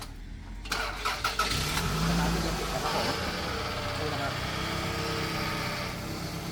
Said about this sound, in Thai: แล้วเดี๋ยวเรามาฟังในส่วนของเครื่องยนต์กันนะครับผม